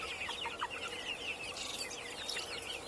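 Around a hundred farm chickens cluck and chatter continuously in the background, a dense overlapping flock murmur with no single bird dominating and no voices present.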